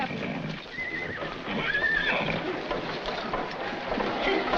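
A horse whinnies briefly amid a busy outdoor background with some murmuring voices.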